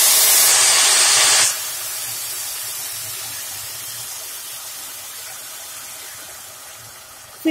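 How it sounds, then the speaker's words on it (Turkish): Water poured into a pan of pasta while cooking: a loud, bright rushing pour for about a second and a half, then a steady softer hiss of water and steam that slowly fades, with no talk. "Artık suyunu ekleyebiliriz."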